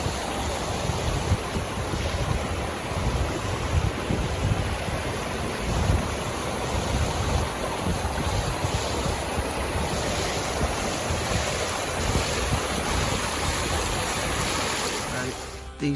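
Sea waves washing onto a rocky, stony beach on the Cornish coast, a continuous rushing surge mixed with gusty wind noise, moderately loud and steady.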